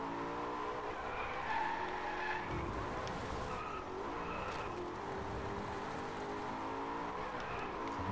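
A car drifts in the racing video game Driveclub, tires squealing and skidding over a steady engine drone, moderately loud with no talk.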